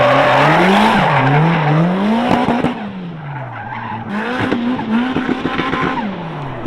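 A K-swapped Subaru FR-S driven hard, its high-revving engine rising and falling through shifts with tire squeal and skidding, loud and close throughout.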